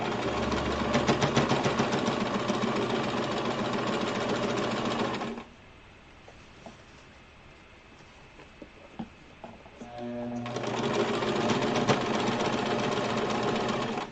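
A sewing machine stitches a fabric face mask in two steady, rapid bursts, close and fairly loud, separated by a quiet pause with faint handling sounds.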